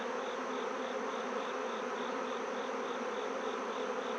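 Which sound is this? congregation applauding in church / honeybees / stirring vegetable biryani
honeybees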